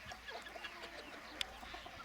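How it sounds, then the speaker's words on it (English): Chickens clucking around a person on a farm during rat pest control, soft scattered calls at a moderate distance with one sharper, louder cluck partway through. "I've got even more chickens chasing me now."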